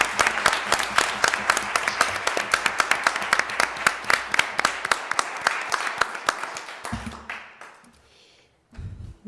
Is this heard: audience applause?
yes